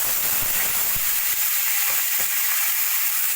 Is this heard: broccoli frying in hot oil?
yes